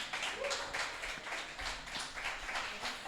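Audience applause for a singer, a steady wash of many hands clapping throughout at moderate level, with no talk over it.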